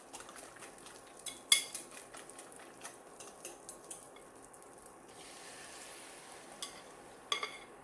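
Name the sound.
eggs frying in a pan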